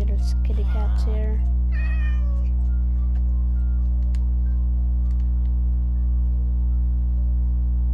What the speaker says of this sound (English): See, there's kitty cats here.